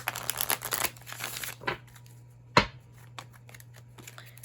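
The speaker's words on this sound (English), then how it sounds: "Three more cards on Casey Anthony." Tarot cards being shuffled by hand, a crisp riffling flutter in the first second and a half, then a softer shuffle and a single sharp card snap near the end, close and alone with no talking.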